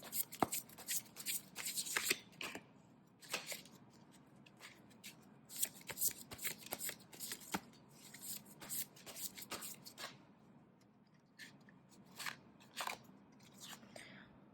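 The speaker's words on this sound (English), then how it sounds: "Let me get a few more cards." Tarot cards handled and shuffled during a card reading, with repeated soft riffling and papery flicks coming in quick bursts close by, a few sharper snaps, and quiet pauses between them.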